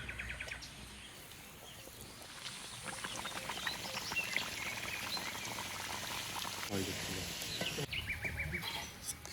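Hand-rolled puris deep-frying in hot oil, a steady close bubbling sizzle with bursts of crackling and popping that continue throughout.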